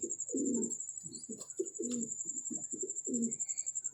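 Domestic pigeons coo in a run of soft, throaty pulses repeated steadily and close by, with a thin, constant high whine running underneath.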